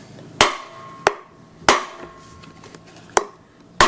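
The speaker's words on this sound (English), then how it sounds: "I'm going to take this socket that just fits nicely on top of here but doesn't hit this surface, and I'm going to pound it out" A socket set on a rusty carrier bearing cap from a Toyota Tundra or Tacoma is struck with a hammer, giving five sharp, loud metallic whacks at uneven intervals with short ringing decays between them.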